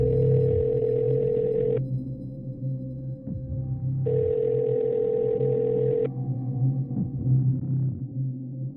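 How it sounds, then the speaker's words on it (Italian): Repeated telephone ring tone on an unanswered call, two long buzzing rings with a pause between, steady and clear, with a low background hum underneath and no one picking up. "Richiama, dice per l'ultima volta, l'avvocato Caracciolo e mi fa notare ancora una volta che non risponde nessuno"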